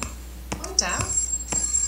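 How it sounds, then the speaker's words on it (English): Telephone ringing inside a Christmas shopping simulator game, a trilling ring tone sounding in short bursts while a player talks over it. "Okay, I hear the phone,"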